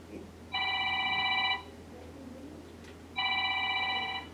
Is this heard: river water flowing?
no